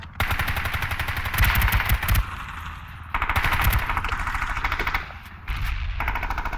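Rapid automatic gunfire in the online shooter Ring of Elysium, loud, close bursts of sustained fire separated by brief pauses, with no talk over it.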